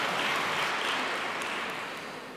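Conference audience applauding steadily for an absent speaker, a dense, sustained wash of clapping that stays loud before easing off slightly toward the end, with no talking.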